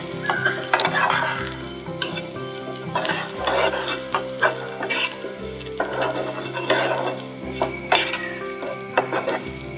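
Chopped Indian gooseberry goes into softened onions in a pan, a low sizzle under repeated scraping and stirring strokes from a spoon, close and moderately loud, in rhythmic bursts.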